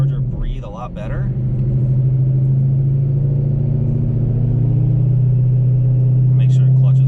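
A supercharged 2014 Shelby GT500 Mustang with a 67mm throttle body and JLT cold air intake idles with a loud, steady low rumble, a brief voice speaking at the start.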